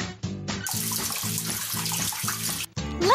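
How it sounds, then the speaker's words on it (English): Water pours in a steady, sustained stream for about two seconds while watering a medium-sized planting box in the Sid the Science Kid vegetable-planting game, over bright looping game music. "Now let's water the medium-sized box."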